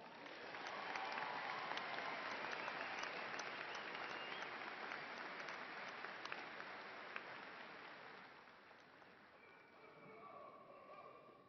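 A large commencement crowd at Angelo State University gives graduates a sustained round of applause, dense and steady for several seconds, then thinning out toward the end as a few faint voices come through.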